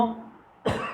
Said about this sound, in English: no, this is just a simple cough